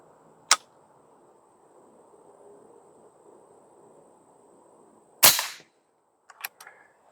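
Shots from an Airforce Condor SS .25 air rifle fired quickly at a target: a sharp crack, several seconds of low room hiss, then a louder crack with a brief ringing tail, followed by faint pellet impacts or clicks.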